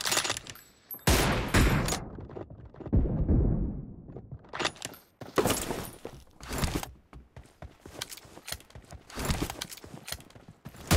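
Gunfire in a team-match shooting video game: loud bursts and rapid volleys of shots with short gaps between them, close and punchy.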